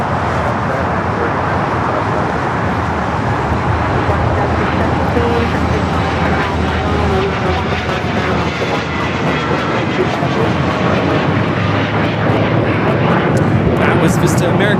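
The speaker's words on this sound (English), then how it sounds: "Was Vista America 508 taking off to Las Vegas on the Challenger 300." A Vista America Challenger 300 business jet takes off at LAX bound for Las Vegas, a loud, steady broadband engine roar that holds throughout with little change in level, with airport ambience and some talk mixed in.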